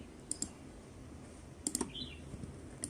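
A few quiet, sharp computer mouse clicks, a pair near the start and a quick cluster in the middle, spaced apart against a soft background hum.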